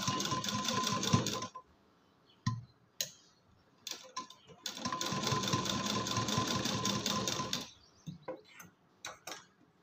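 A sewing machine stitches piping onto a neckline in two long bursts of rapid mechanical whirring, separated by short gaps filled with light clicks and handling taps.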